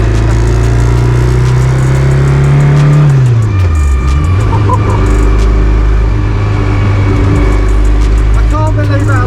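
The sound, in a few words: rare rally car engine revving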